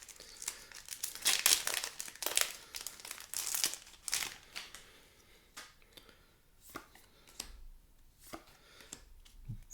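Foil wrapper of a Double Masters 2022 Magic card booster pack being torn open, with close, loud, irregular crinkling and crackling bursts that fade into softer, sparse rustles and taps.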